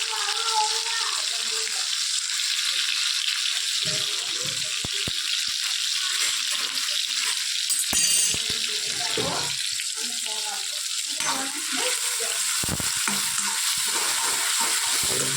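Capsicum, onion and tomato fry in hot oil in a home kitchen, giving a steady, loud hiss and sizzle throughout with occasional stirring clatter.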